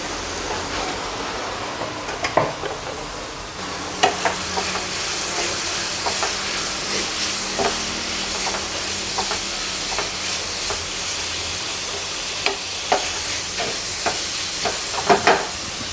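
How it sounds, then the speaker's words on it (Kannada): Food frying and being stirred in a pan, a steady close sizzle with repeated sharp scrapes and clinks of a spoon against the pan throughout, no talk. "ಫುಲ್ಲು ಇವಾಗ ಫ್ರೈ ಆಗಿದೆ"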